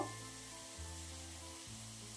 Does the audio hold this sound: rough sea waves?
no